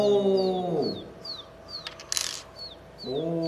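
Someone whistles an imitation of a baby chick, a run of short falling peeps repeated at an even pace, with voices heard just before and after.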